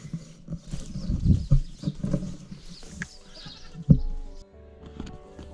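Goats bleat a few times in short, wavering calls, close by, with rustling and light shuffling between them.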